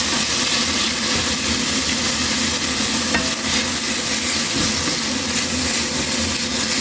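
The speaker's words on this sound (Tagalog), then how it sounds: "may gisa-gisa na naman tayo" Ground pork sautéing in a pan, loud and continuous sizzling with stirring scrapes throughout, no talk.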